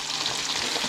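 Trout fillets fry steadily in a hot pan, a dense, even sizzle with a gentle crackle that stays close and loud throughout with no voices.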